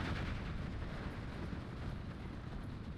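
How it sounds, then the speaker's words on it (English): Flak anti-aircraft guns fire at a half-track in the WWII real-time tactics game Steel Division 2, making a dense, continuous rumble of overlapping booms and distant battle noise at a low, even level. "The flak now shooting at the half track, but as you can see, it's not really effective"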